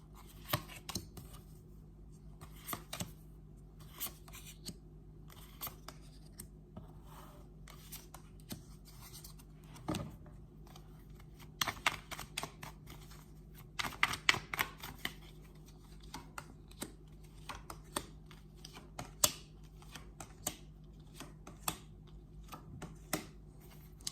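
Tarot cards are laid out on a table in a quiet room: soft scattered taps, slides and shuffles, with occasional sharper clicks as cards land, and no voices.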